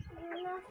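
One chicken gives a brief, single tonal cluck close by, short and fairly soft.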